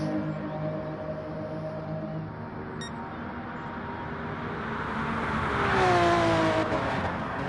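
A race car engine on its final lap, a steady droning whine that builds to a louder revving pass with a rising then falling pitch near the end, with no voices.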